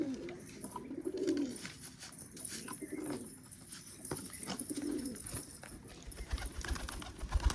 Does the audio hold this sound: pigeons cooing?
yes